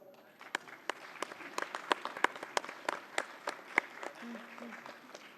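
Scattered applause from a small audience at an anniversary ceremony, with distinct individual claps in an uneven rhythm, fairly near and moderate in loudness, and some faint voices underneath.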